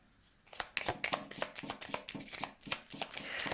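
Tarot cards being shuffled and handled close up, a quick run of crisp flicking, riffling snaps packed tightly together, fairly quiet and steady, with no speech.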